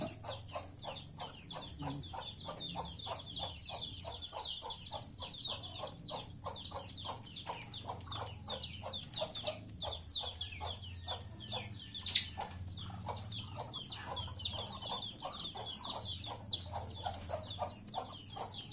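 Backyard chickens cluck steadily and continuously for the whole stretch, a dense, busy flock sound with no talking.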